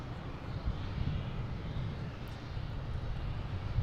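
An American Airlines Airbus A319 jet airliner at Boston Logan International Airport, a steady, distant engine rumble and roar holding at moderate level throughout.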